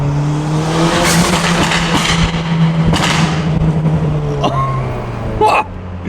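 A loud turbocharged Mazda Miata engine drones and revs in a tunnel, echoing, its pitch holding steady and then dropping, with sharp pops and a brief squeal near the end.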